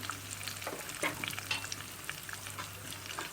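Oil sizzles and crackles steadily while popcorn kernels are stirred in a pot, with scraping clicks scattered throughout and no voices.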